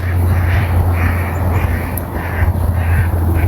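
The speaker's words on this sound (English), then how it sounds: "Oh, there goes the ducks." Ducks quacking beside an icy riverbank in Nova Scotia, Canada, where ice has been pushed up onto the shore; soft, repeated calls rise over a steady low rumble of wind or flowing water.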